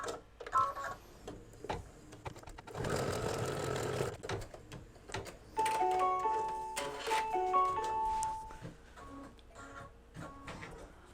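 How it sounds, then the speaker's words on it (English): A sewing machine, in an in-the-hoop embroidery setup making a mug rug, stitches down a fabric piece, with a dense mechanical burst and intermittent tonal beeps and whirring through the rest, no talk. "And I'll stitch that down."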